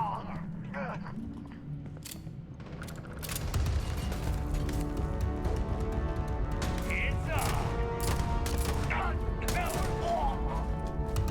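Gunfire in the video game Starfield, bursts of sharp shots and impacts layered with game effects, loud and continuous after the first few seconds, with someone talking over the action.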